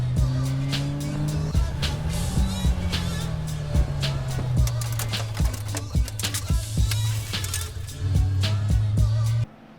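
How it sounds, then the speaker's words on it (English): Race cars lapping Donington Park during a wet endurance race, with a steady near engine drone shifting pitch through gear changes and a dense stream of sharp clicks and rattles, heard alone. "so we're about 50 minutes into the endurance race"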